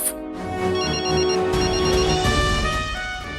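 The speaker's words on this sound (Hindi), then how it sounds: "घंटी तो बज रही है जी।" A telephone rings indoors in a home, a bright, sustained electronic bell tone that holds steadily throughout at moderate loudness, with no talking over it.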